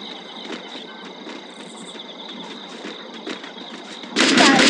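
Gunfire from a shooting video game, headshot kills with scattered sharp shots over a steady electronic tone, ending in a loud, dense burst of firing.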